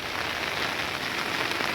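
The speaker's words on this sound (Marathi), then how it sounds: "पाऊस खूप आहे" Heavy monsoon rain pours down in the Konkan countryside beside a garden where runoff is starting to flow, a dense, steady hiss of rain on surfaces that stays loud and unbroken throughout, with no voices.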